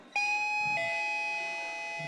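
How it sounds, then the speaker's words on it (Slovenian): A plain wireless household doorbell set off by its remote gives a clear electronic two-tone chime, one bright note and then a second that rings out and slowly fades, close and loud with no talking. "se pravi navaden hišan zvonc"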